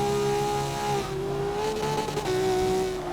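A Ferrari 250 California races in the video game Forza 6, its engine note a loud, close whine that drops briefly as it shifts, then climbs again through the gears, with faint tire noise underneath.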